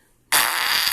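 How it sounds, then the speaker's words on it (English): A loud fart sound effect from a fart sound app bursts in abruptly after brief silence and holds as a dense, buzzy blast until the clip ends. "fart sound number 8"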